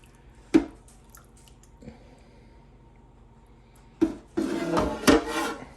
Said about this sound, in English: I'm going to pour it in on top of the brisket meat.